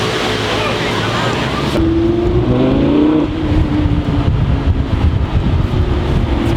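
A Lamborghini Gallardo LP560 drives through busy Paris streets with a loud, steady engine drone that rises in pitch through a gear, against heavy wind buffeting on the microphone.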